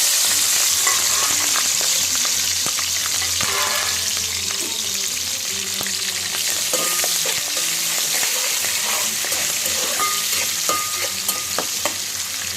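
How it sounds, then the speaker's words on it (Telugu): Chopped onions, green chillies and curry leaves crackle in hot oil for a mutton curry, a loud, dense sizzle with scattered pops and stirring clicks throughout. "ఇందులో ఆనియన్స్ ఇందాక కట్ చేసుకున్న ఆనియన్స్, పచ్చిమిర్చి, కొంచెం కరివేపాకు కూడా ఇందులో వేసేసుకోండి."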